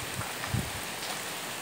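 Heavy rain falling in the western Bahia backcountry, a steady, fairly faint broadband wash with a couple of soft low thumps, no voices.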